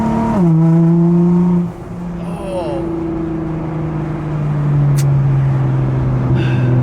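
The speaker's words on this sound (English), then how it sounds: "if your car is straight pipe, you can really hear the turbo whistle" A straight-piped widebody GT-R engine drones steadily with a rising, high-pitched turbo whistle over a loud, raspy exhaust; a voice briefly exclaims near the start.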